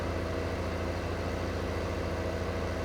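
A combine harvester engine idles in Farming Simulator 2015, a steady, loud, low rumbling drone with constant level and no breaks, heard alone without talk.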